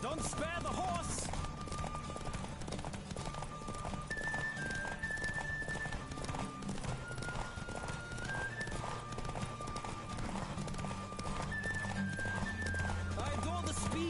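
Horse galloping in The Witcher 3, rapid rhythmic hoofbeats running continuously under a lively game soundtrack, with occasional voices and a neigh in the mix.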